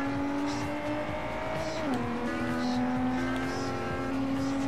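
A 1971 Plymouth Barracuda 426 HEMI in Forza Horizon, its engine droning loudly and steadily, with a pitch that dips briefly and then holds.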